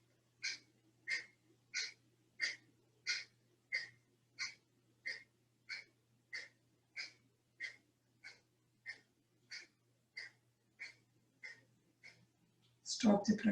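Rhythmic forceful yoga pranayama breaths, a steady train of about twenty sharp nasal exhalations spaced roughly every two-thirds of a second, close and fairly faint, ending in a rougher burst of breath.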